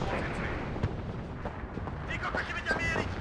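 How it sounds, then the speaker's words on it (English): Counter-battery artillery in the WARNO strategy game pounds mortar positions, a run of distant, muffled booms and rumbling bursts at uneven intervals, fairly quiet under a continuous wash of battle noise. "Counter battery coming in there for the mortars."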